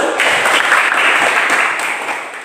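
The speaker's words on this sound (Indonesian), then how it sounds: "Oke, tepuk tangan dulu." A burst of clapping from a class in a classroom fills the moment, steady and fairly loud, then fades slightly toward the end.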